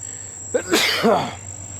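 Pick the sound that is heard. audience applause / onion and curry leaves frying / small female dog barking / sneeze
sneeze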